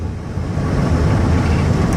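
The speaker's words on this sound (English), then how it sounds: "You can hear the engine wrap out." A 2010 Dodge Grand Caravan SE with 322K miles revs steadily through its gears with a low, rumbling drone, constant and fairly loud throughout, like a van running at speed on a road.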